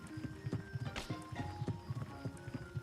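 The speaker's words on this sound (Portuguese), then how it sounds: "São cavalos." Horses walk with steady clip-clop hoofbeats close by, and a whinny rises over the footfalls partway through; no one speaks.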